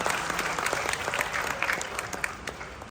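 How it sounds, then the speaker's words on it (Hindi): Audience applause at a university lecture, a full, steady roar of many hands clapping that continues evenly before stopping abruptly at the end. "तो जोरदार तालियां तुसी आप दे लिए हो।"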